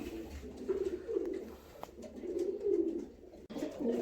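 Pigeons coo steadily in a loft, several low, rolling calls overlapping close by, with brief pauses and no talking.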